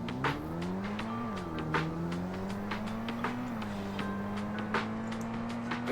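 A car engine in a video game hums steadily with a gliding pitch that rises and dips, along with scattered sharp clicks and taps, at moderate level with no talking.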